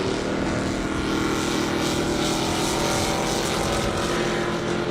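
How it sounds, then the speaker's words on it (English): Constant loud engine roar from a 1968 Camaro accelerating hard on a half-mile airstrip at a 200 mph race, heard at a distance as a dense, steady drone. "Now we got Brant Gonzalez back in that 68 Camaro."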